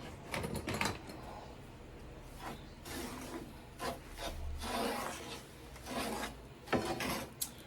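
A spoon scrapes and stirs through apple pie filling in a bowl with soft, uneven rubbing strokes. The sound is close and quiet, with a faint low rumble underneath and no talk.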